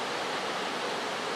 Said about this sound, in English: Wow, big waves coming in too.